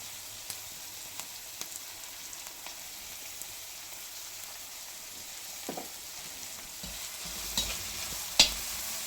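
A spice paste fries quietly in a thick steel pan, a faint continuous sizzle broken by occasional scrapes and clinks of a spatula, with a louder knock near the end.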